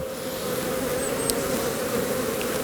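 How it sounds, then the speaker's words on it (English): Honeybees buzzing around an open hive during a spring inspection of a nuc being moved into a bigger box, a dense steady close hum with a few louder individual bees passing by. "Lots of bees."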